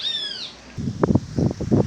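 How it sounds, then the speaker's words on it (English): A single bird in a garden gives one clear, bright descending chirp, followed by low muffled rustling and thumps close by. "The birds are having a field day. Not sure if you're hearing them chirping away loudly."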